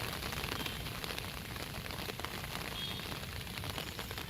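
Heavy monsoon rain pours steadily onto flooded streets in a city in Uttar Pradesh, a dense, continuous hiss with no pauses, close and fairly loud throughout, with no voices.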